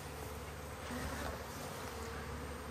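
A bee swarm clustering around its queen makes a dense, continuous close buzzing hum throughout, with no voices.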